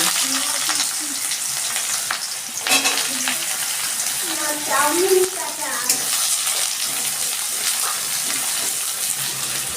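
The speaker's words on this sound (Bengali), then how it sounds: "সেই কড়াইতে আমি আবার তেল দিয়ে দিলাম আমি দিচ্ছি তিনটে শুকনো লঙ্কা এবার দিয়ে দিচ্ছি আমি পেঁয়াজ কুচি" Dried red chillies and chopped onion frying in oil in a wok, a continuous loud hiss and crackle with occasional stirring scrapes and clinks, close up.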